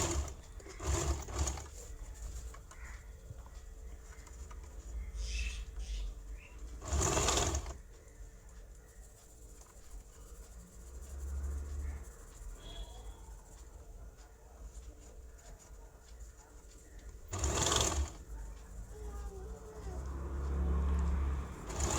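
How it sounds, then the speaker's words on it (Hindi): A sewing machine stitches a silk girl's top in repeated runs, buzzing steadily at moderate volume with brief louder surges and pauses, over faint room noise. "मैं स्टिच कर दे रही हूँ।"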